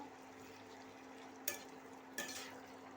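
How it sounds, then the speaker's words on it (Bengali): Fried cauliflower being stirred in a simmering sauce in a pan for cauliflower chilli, a quiet bubbling bed with two short scraping stir strokes, no talk. "দিয়ে এটা একটু ভালো করে নেড়ে ছেড়ে নেব।"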